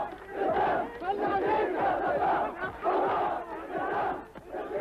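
Huge Iraqi crowds chanting and cheering for Saddam Hussein, a dense roar of many voices rising and falling in rhythmic surges, loud and continuous.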